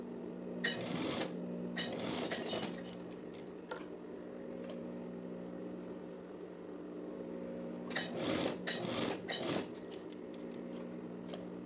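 A sewing machine stitches a pocket onto a teddy jacket, running in short bursts near the start and again near the end, with a steady low hum and quieter handling sounds between the runs.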